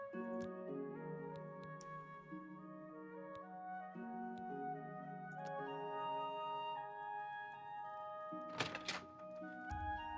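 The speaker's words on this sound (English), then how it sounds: "Was someone just banging on the door?" Banging on a door in Oblivion Remastered: a short cluster of heavy thuds arrives near the end, standing out over steady background music.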